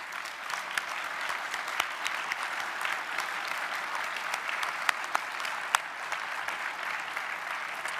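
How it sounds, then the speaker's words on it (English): An audience at a supercomputing conference session claps for a university team standing up, a steady, fairly soft patter of many hands with a few sharper individual claps popping out, sustained throughout. "So maybe I can ask them to stand up and take a round of applause"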